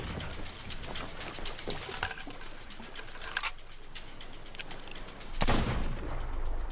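Gunfire in the pirate video game Sea of Thieves: a steady run of crackling shots under a noisy, watery ambience, then a louder burst near the end.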